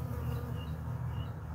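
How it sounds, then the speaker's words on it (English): Honeybees drone continuously inside a Layens hive while they clean out a frame, a steady low buzz that holds at an even, moderate level with no voices over it. "Looks like some bees are cleaning that out."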